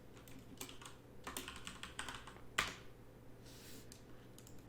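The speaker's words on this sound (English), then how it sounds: "We can type in a partial name" Someone types on a computer keyboard at a desktop scale-ticketing station for scrap metal recycling. The keystrokes are faint and sparse, with a scattering of soft clicks and one sharper tap, and no speech.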